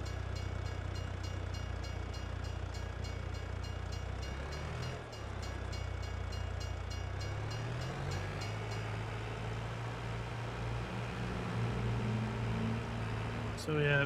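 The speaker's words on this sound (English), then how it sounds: "you're going to see the train an awful lot on this map" Train in the Farming Simulator 22 video game on the Lapacho farm map rumbling past steadily, a low continuous rolling drone with rising and falling pitch and a brief squeal near the end.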